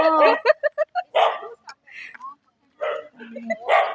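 A dog in Bengaluru barks and yips in a rapid run of sharp, close barks, then a few more scattered yelps after a brief pause.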